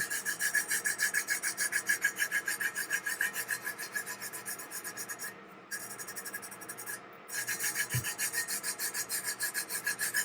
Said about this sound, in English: If you have any stubborn spots, just keep rubbing it. Rub it a little bit harder and it'll come off.